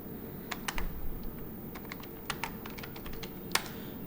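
Keys tapped on a computer keyboard while entering transactions in TallyPrime accounting software, irregular clusters of close, crisp clicks over a low steady hum, no talking.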